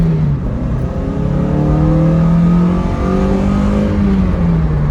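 A Toyota MR2 Spyder accelerating uphill in first gear at wide-open throttle, the engine droning loudly with a steadily rising pitch and a brief dip, heard from inside the car without talking.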